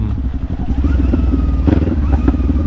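A Kawasaki Ninja 400 motorcycle pulling hard in second gear, a loud close engine drone that climbs steadily in pitch as it accelerates, with road and wind noise underneath.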